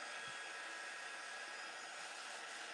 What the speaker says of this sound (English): I figure while I have my dryer out, let me hit these with a little bit of air.